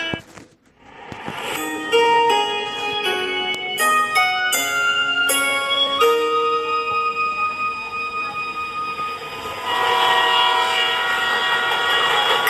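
A train at a Kanpur railway station platform sounds loud horn blasts over rumbling rail noise, steady and close throughout, with no talking.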